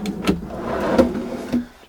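Drawers slide and knock in a Sprinter camper van, a few close rumbling glides with soft thumps as they open, no talking.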